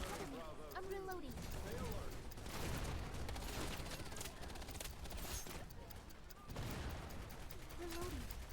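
Gunfire and weapon mechanics from the Wild Assault combat video game, with a steady dense clatter of shots and metallic reload clicks under continuous battle noise, voices and radio-style talk.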